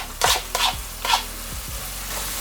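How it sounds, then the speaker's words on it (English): Garlic and tomatoes sizzling in a pan for ackee and saltfish, a bright sizzle punctuated by three quick stirring scrapes before settling into a softer steady fry. "the next thing I want to do now is just go ahead and add my garlic and the"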